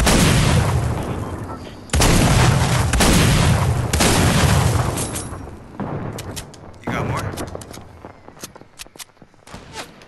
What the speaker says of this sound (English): Now he's gonna get a grenade launcher.